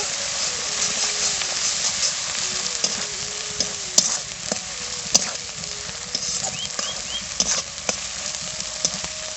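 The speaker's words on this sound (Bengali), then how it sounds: "এবার আমি মশলাটা ভালোভাবে কষিয়ে নেব" Spice paste with turmeric sautéing for a mutton curry: a steady close sizzle with frequent scraping stir strokes and sharp clinks of a utensil on the pan, with a faint tonal hum running underneath.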